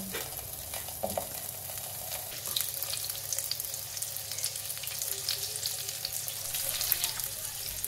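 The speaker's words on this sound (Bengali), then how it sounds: "এবার আমি পনিরগুলোকে একসাথে ভেজে নেব।" Pieces of paneer fry in oil in a pan with a continuous close sizzle and crackle. Stirring clatter is heard now and then, with no voice over it.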